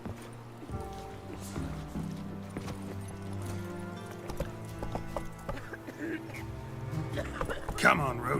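In The Witcher 3, the horse Roach clip-clops at a trot in a steady rhythm, close and clear, with a voice speaking over the hoofbeats and ambient game sounds behind.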